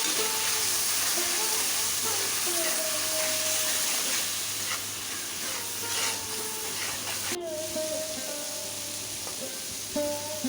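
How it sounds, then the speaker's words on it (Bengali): Spice paste of turmeric, coriander powder and green chili sizzling in a pan with a splash of water, a continuous close hiss and crackle with small clinks throughout. "সামান্য জল দিয়ে মশলাটা ভালো করে কষিয়ে নেব"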